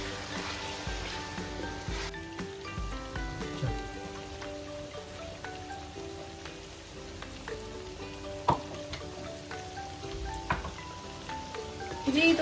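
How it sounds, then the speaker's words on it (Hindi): Kofta curry sautés in a pot with a soft, steady sizzle and faint crackles, quiet and close, under light tonal background sounds. "अब हम इसको थोड़ा सा भूनेंगे।"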